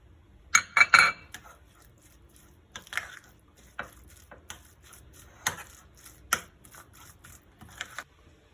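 Cooked carrots being stirred into yogurt with a spoon in a bowl for Turkish carrot tarator, scattered light scraping and clinking taps of metal on a dish, quiet with pauses between strokes.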